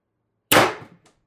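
A single sharp shot from an X-68 Storm Trooper paintball marker, a loud crisp pop with a quick decay and a faint click just after, heard alone against silence.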